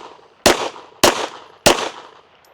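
Three sharp pistol shots fired with Fiocchi small pistol primers ring out at an even pace about a second apart, each a loud crack followed by a brief decaying echo.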